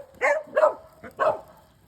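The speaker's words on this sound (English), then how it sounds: "our dogs see birds and they think they're a bird dog" Several dogs bark in three or four short, sharp bursts close by, with brief gaps between them and no talking over them.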